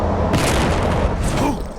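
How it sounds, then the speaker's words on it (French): Pirate cannon fire booming loudly in a dense, continuous barrage, heavy blasts overlapping with chaotic background noise and shouting voices. "Comment ça qu'ils ont des canons?"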